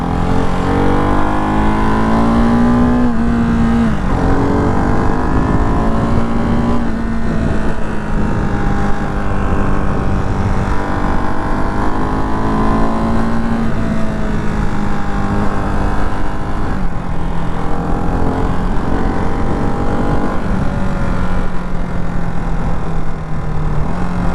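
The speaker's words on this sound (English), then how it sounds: "this bike and exhaust sounds really good stock" A Ducati Hypermotard 698 Mono RVE motorcycle engine with stock exhaust revs up and down repeatedly, loud and close, with a steady exhaust drone rising and falling in pitch throughout.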